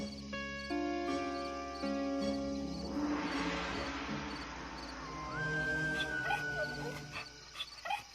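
A hungry mother dog in a cartoon whimpers and yips over musical tones and an ambient swell, with high, thin cries near the end and no clear talking.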